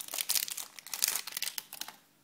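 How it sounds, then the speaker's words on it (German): Crinkly packaging crackles and rustles as a roll of camera film for a Hasselblad magazine is taken out, a busy close stretch of crinkling that fades out at the end. "Den Film nehmen wir jetzt erstmal aus der Verpackung."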